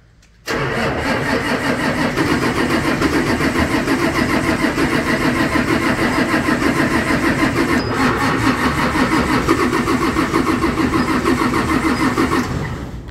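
A car engine cranks and catches, then holds a loud, steady revving drone close by for about twelve seconds before easing off.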